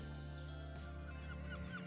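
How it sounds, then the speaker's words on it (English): Seagulls call out repeatedly in short upward squawks over a steady low engine-like drone, several voices overlapping nearby. "Heaps of seagulls wanting their free meal."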